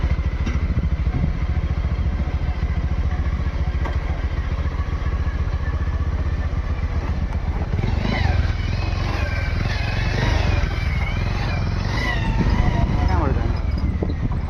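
A motorcycle rides along a road, its engine giving a steady, close, low rumble, with voices joining in during the later part.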